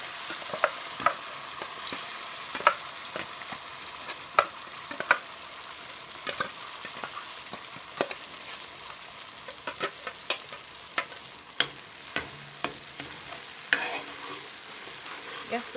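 Spice paste, ground in a mixer, fries in a pan over a low gas flame, giving a steady soft sizzle dotted with sharp little crackles and pops, with no voices.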